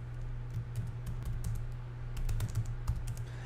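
Quiet clicking of keys on a computer keyboard as a document is typed into a browser, a quick irregular run of taps with short pauses, close and soft, with no speech.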